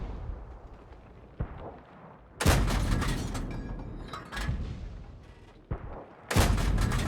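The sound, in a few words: tank gun shot from KB1 tank in a video game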